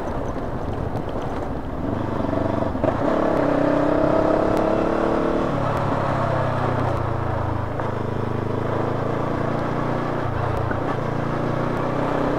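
Motorcycle engine humming steadily while riding on a road trip from Manila to Romblon, a low continuous drone mixed with wind buffeting the microphone, no talk.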